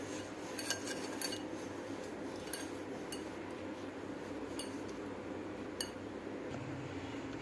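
Sugar is mixed into dry sponge cake ingredients in a bowl with a utensil. Soft, steady scraping comes with occasional light clinks against the bowl, quiet and close, with no talking.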